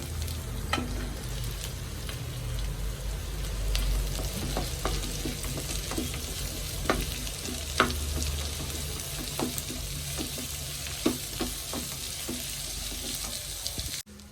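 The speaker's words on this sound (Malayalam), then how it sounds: "ഉള്ളി നന്നായിട്ട് വഴണ്ടു വരണം സവാളയും കൂടെ ഇട്ട് കൊടുക്കാം" Onions sauté in a pan for a squid roast dish, a continuous close sizzle broken by scattered soft clicks and stirring taps, without voices.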